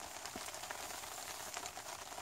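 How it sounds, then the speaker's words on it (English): Light rain beginning to fall outdoors, a steady soft patter and hiss of drops on surfaces with a few slightly sharper drop ticks, fairly faint and continuous with no voices. "oh yes, it started to rain"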